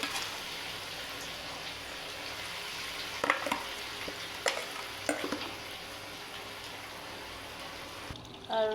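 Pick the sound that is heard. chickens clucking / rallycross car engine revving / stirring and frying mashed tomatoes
stirring and frying mashed tomatoes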